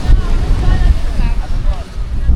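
Strong sea waves surge at a beach during an outing, a loud, low, continuous rumble of surf mixed with wind buffeting the microphone.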